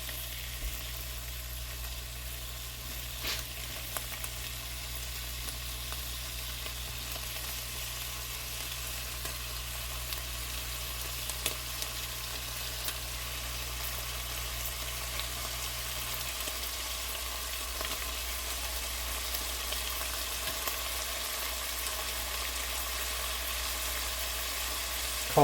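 Bacon frying in a pot gives a faint, steady sizzle throughout, with a low hum underneath and occasional soft pops.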